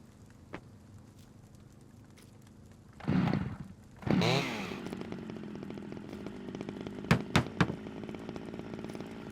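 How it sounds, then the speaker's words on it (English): Planks being cut with a Bushman cutting device in the survival game SCUM, two loud, rasping sawing bursts a second apart, followed by lighter clicks and a steady low hum. "And then we need to cut some more planks."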